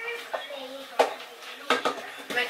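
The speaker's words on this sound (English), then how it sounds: "mix the carne again" Meat for Chile Colorado being stirred in a pot: a few scattered clanks and scrapes of a utensil against the metal, close by, separated by short quiet stretches.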